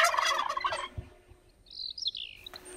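Turkey gobbler calling, a short high warbling gobble-like burst heard after a stretch of louder background noise, moderately near with no talking.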